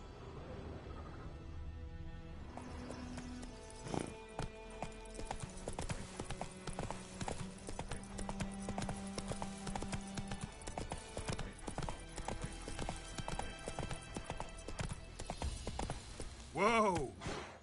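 Roach the horse galloping in The Witcher 3, a rapid, steady clip-clop of hooves under game music, with a short neigh-like sound near the end and occasional voice.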